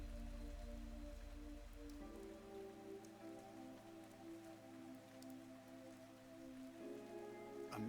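Rain falling in the video game Fantasian Neo Dimension, a faint steady patter beneath sustained tonal background music.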